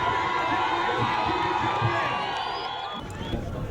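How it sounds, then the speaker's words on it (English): An audience cheers and whoops in a noisy mix of voices and clapping, with children's shouts rising through the crowd, sustained and fairly close before easing slightly near the end. "big round of applause."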